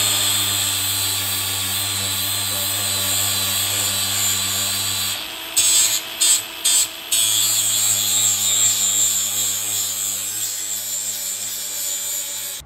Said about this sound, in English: this is cracked and blistered on this panel, so I'm just going to rub it down now with the grinder.